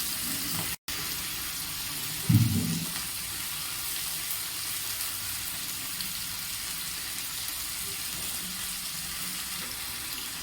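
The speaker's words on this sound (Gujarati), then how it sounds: "થોડીવાર માટે આપણે ઝીંગાને સાંતળવા દેવાનો છે" Okra and shrimp sautéing in a pan, a faint, even hiss of sizzling oil running throughout with one brief soft clunk early on.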